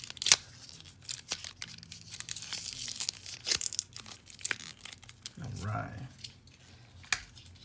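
Taped-down packaging around a Fossil Q Explorist Gen 3 smartwatch is ripped and torn away, making several close bursts of tearing and crinkling, with a person speaking in between.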